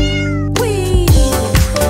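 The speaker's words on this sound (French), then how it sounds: "Le chat se rassemble avec des griffes silencieuses." A cat meows loudly and close by, with a couple of drawn-out calls in quick succession and no voices.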